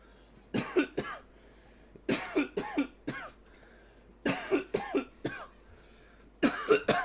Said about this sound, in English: Oh, that is tasty coughs.